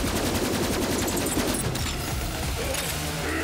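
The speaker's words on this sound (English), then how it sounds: "Now this pistol does so much damage," A pistol firing rapidly in Borderlands 3, a loud, unbroken rattle of close shots layered with dense game effects throughout.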